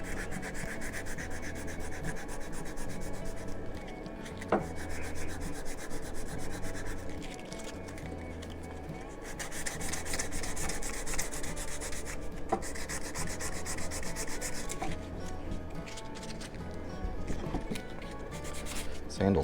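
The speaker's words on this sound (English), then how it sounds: "I'm going to take my sandpaper here and just on the head up here, I'm gonna sand it just a little bit." Sandpaper rubbing over the head of a hand-carved wooden hatchet, a steady close scratchy sanding in repeated back-and-forth strokes with brief pauses between passes.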